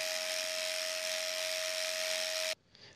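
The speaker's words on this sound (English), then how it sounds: "Use the clippers to give the tail head a clip." Electric clippers run steadily on a dairy cow's tail head, a loud constant buzz with a sharp whine that holds for about two and a half seconds before cutting off abruptly, leaving faint background noise.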